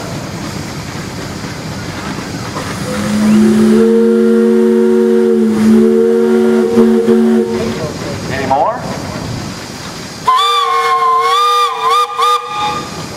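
A steam traction engine's loud, steady whistle blows for several seconds over hissing during a parade, then a higher, warbling whistle follows; people talk briefly nearby.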